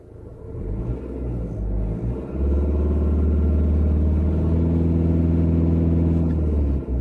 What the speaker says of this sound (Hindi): ये गाड़ी काफ़ी शोर करती है